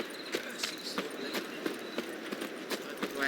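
Horse hooves clip-clop in The Witcher 3, a steady run of light, sharp knocks at a trotting rhythm over a busy game background, fairly close and moderately loud.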